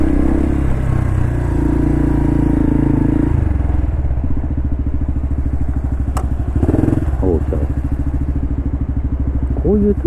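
Honda Cross Cub motorcycle with a manual gearbox on a solo tour, its engine droning steadily at close range with shifts in pitch as it changes gear, with light clatter and wind.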